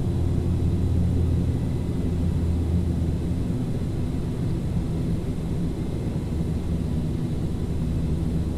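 Steady turboprop drone of Fokker 50 engines set to climb power in a flight simulator, a dense continuous low rumble with broadband hiss, loud and unchanging throughout with no talk.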